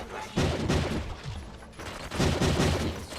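Rapid bursts of automatic gunfire in the Detroit Simulator game, loud and dense volleys in two clusters separated by a brief lull, close and sustained.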